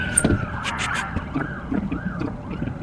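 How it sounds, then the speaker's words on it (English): A siren wails outside, its rising and falling tone audible at a moderate distance over traffic noise. "Sorry, there's a siren out there."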